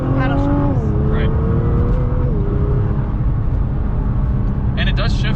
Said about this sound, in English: And it does shift quite quickly. That's downshift.